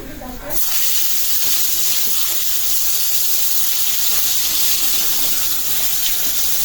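Taal eggplant slices frying in hot oil give a steady, loud broadband sizzle after a brief start, hissing continuously with no pauses and no talk.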